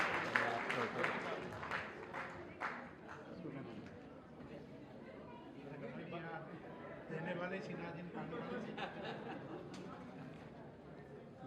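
Audience clapping at a grand community ceremony in Udaipur, a mixed crowd of hands rising and falling in bursts across the stretch alongside steady chatter and murmur from the hall.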